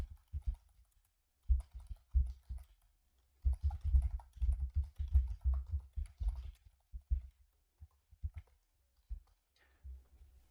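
Typing on a computer keyboard, with irregular bursts of quick, close key clicks separated by short pauses, fairly quiet and with no talk over it.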